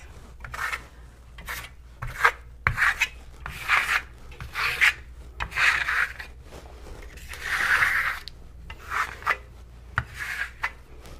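A stainless steel trowel with beveled edges spreads wall finish in a series of short, rhythmic scraping strokes, close and moderately loud, with no talking.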